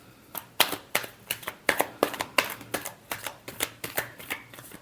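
Tarot cards being shuffled by hand in a steady run of crisp riffling snaps, roughly two or three per second, close and clear with no voices.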